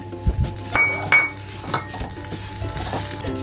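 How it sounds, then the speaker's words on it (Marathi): Rice semolina roasting in ghee in a pan over a low flame, with scraping spoon strokes, light clinks of metal against the pan and a soft sizzle, close and brief. "तूप गरम झालं की मंद गॅसवर हा आपला तांदळाचा रवा चांगला भाजून घ्यायचा"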